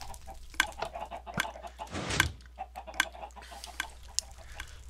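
Minecraft chickens clucking in quick, irregular bursts close by, with a short whooshing mechanical rush partway through.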